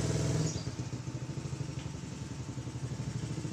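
Suzuki Satria F150 motorcycle fitted with a homemade hydraulic clutch, its engine running close and loud with a rapid pulsing throb that settles from a brief higher rev into steady idle.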